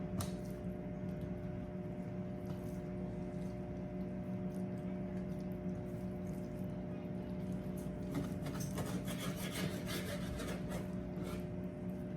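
Chicken dark meat being trimmed with a knife on a board: a continuous close rubbing, scraping texture that grows busier and more clicky toward the end.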